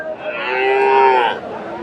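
A Friesian heifer at the Dhap cattle market in Bogura gives one loud, drawn-out moo close by that lasts over a second and then fades into faint background noise.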